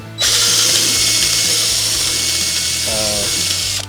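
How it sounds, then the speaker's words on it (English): Power drill with a large bit boring through a Honda Civic oil pan, a loud continuous high whine with a grinding edge that holds steady for several seconds close to the listener. "let's just go ahead and do this last drill bit"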